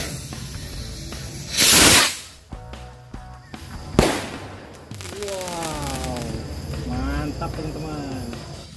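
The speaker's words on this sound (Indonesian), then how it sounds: "selanjutnya kita nyalakan mercon roket jumbo" A jumbo rocket firecracker is lit, giving a sharp hissing whoosh, then a loud crack followed by a crackling, whistling fizz and pops, with voices talking nearby.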